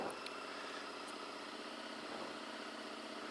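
A cold motorbike engine idling as it warms up, a faint, steady, even-pulsed mechanical hum that runs without change and with no voices.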